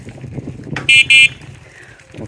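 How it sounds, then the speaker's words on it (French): Vehicle horn honks twice in quick succession near a creek to warn animals, sharp and loud over a low rumbling background. "On klaxonne."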